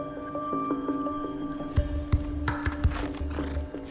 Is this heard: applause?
no